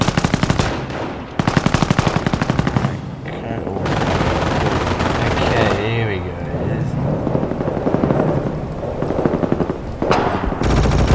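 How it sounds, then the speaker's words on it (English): Heavy machine-gun bursts and rapid gunfire from the Company of Heroes mod Far East war game, loud and continuous, with helicopter-like droning and voiced unit callouts mixed into the battle. "Incoming enemy fire."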